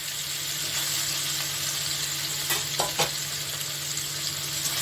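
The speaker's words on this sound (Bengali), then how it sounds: "এইভাবে আমি সব কয়টা পনিরকে ভেজে নিচ্ছি।" Paneer pieces frying in hot oil, a continuous close sizzle with a few sharp clicks and scrapes of a utensil near the middle.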